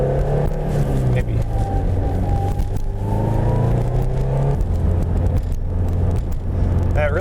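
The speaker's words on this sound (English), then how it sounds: "This turbo takes a little while to spool, but once it's up there and once you're building boost, it's such a smooth application of power" Turbocharged, modified 2005 Subaru Legacy GT wagon accelerating, a steady engine drone with rising whine as boost builds, continuous and fairly loud from inside the car, with speech over it.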